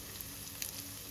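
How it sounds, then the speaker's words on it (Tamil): Steady faint hiss of mustard, urad dal, chana dal and ginger tempering in hot oil, continuous with a few small crackles and pops. "நான் தாளிக்கிறது"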